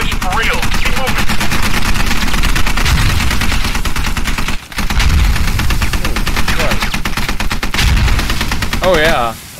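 Sustained rapid automatic gunfire fired toward someone, loud and continuous bursts with a brief break midway, while a voice shouts over it.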